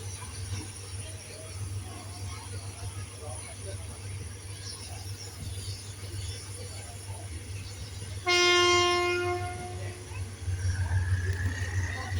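A steam locomotive train arrives at Ayutthaya station, its low rumble steady until a loud, sustained horn blast sounds near the end, followed by a rising tone and continued rolling noise.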